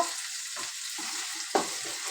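Ginger garlic paste fries in oil in a pan with a steady, soft sizzle, broken by a few brief stirring scrapes and one sharper clack of the utensil, with no talking.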